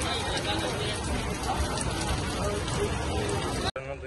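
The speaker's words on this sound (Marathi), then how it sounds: "हे बघ कसा पाऊस लागला" Heavy rain in Goa pours down in a dense, steady hiss close by that runs unbroken before cutting off abruptly near the end, with a voice faintly present beneath it.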